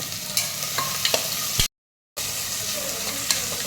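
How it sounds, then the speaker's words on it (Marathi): Two large finely chopped onions fry in two to three spoonfuls of oil, giving a continuous close sizzle with spatula stirring clicks. A brief dropout of total silence interrupts it partway through. "तर हा कांदा चांगला सोनेरी रंग येईपर्यंत आपल्याला भाजून घ्यायचा आहे।"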